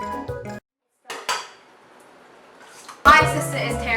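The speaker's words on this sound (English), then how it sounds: "mix the flour and all that stuff in a separate bowl and then add it to the mixture slowly" Utensils clink and scrape against a bowl while flour and other ingredients are mixed, in short bursts separated by quiet gaps, with a voice talking at times.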